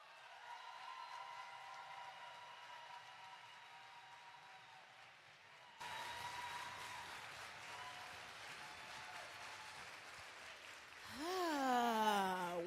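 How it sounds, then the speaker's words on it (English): Applause from a poetry slam audience, a soft, steady patter of clapping that swells louder toward the end, with a voice heard through it. "give Jess another round of applause"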